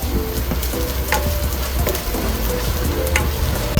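Onion sautés with garlic in a pan while cooking an egg dish, giving a close, steady sizzle with frequent stirring clatter. No talk is heard.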